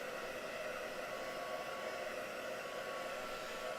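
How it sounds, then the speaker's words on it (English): A hair dryer blows over textured paint at a craft demonstration, making a constant, even whoosh with a faint steady hum that goes on unbroken throughout. "Drying it off."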